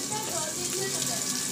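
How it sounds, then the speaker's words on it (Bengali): Neem leaves and eggplant frying in a home kitchen pan give a steady, close hiss of sizzling oil with faint clinks, lasting through the short moment. "নিম বেগুনটা ভাজছি"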